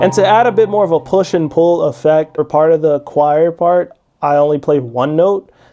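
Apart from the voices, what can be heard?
No distinct noise like a dog, phone or traffic.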